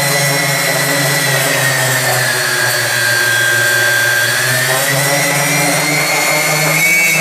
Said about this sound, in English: now I'm going to throttle up, make sure they're all firing up evenly